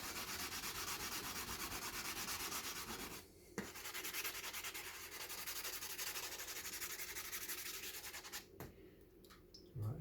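Pounamu jade being hand sanded across the grain, a steady close scratchy rubbing that runs almost continuously, with brief pauses before the strokes resume.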